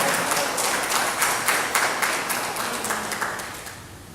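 A crowd claps steadily in a reverberant hall during a church sermon, the applause rising briefly and then tapering off toward the end.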